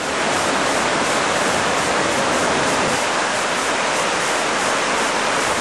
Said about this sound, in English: Very, very beautiful waterfall